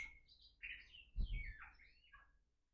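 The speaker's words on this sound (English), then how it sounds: "there's birds in this room, which is really lovely" Birds chirp inside a room, a quick run of bright, fluttering tweets and warbles up close, with a soft thump midway and no talking.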